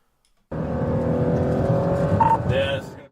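A car thieves were driving races along a highway with a 90 km/h limit at up to 160 km/h, bursting in loudly after a short silence with a sustained engine roar and rising whine.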